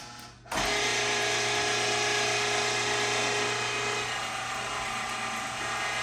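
A meat grinder works mountain oyster sausage meat, its motor starting abruptly after a brief lull and then holding a steady, close whirring drone without pause or talk.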